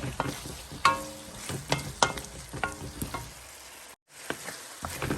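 Oyster sauce sizzles in a hot pan as a utensil stirs it, with repeated scraping strokes over steady frying crackle for a few seconds, close and fairly loud, followed by a brief quiet gap.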